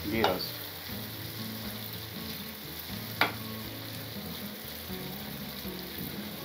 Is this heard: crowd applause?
no